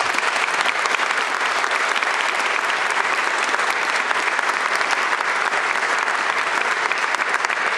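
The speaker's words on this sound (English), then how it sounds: "I'm glad we got the clapping out of the way." Audience applause fills a legislative chamber at the Utah State of the State address: steady, dense clapping from a large crowd at constant loudness with no voices over it.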